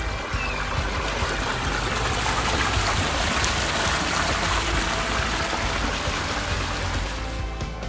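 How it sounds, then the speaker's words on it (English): Water trickles and splashes steadily from a backyard water feature at a luxury model home in Winter Garden, a close, continuous babbling stream sound with no voices. "amazing water feature"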